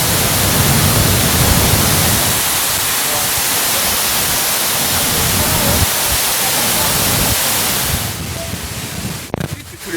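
Broad, steady roar of a waterfall heard close from a boat off Mauritius, a continuous wash of noise that thins out near the end with a few brief knocks.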